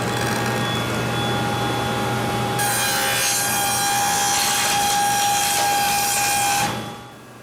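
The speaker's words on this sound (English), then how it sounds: "I like to use a push pad when I'm cutting the rabbets." A SawStop table saw fitted with a dado blade cuts rabbets in plywood, a steady loud whine with a rougher rise in the middle of the pass, then trailing off near the end with no one talking.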